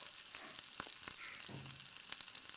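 Onions and cashews fry in a pan for dhaba-style paneer butter masala, a faint steady sizzle with a few soft clicks of stirring and a brief low scrape.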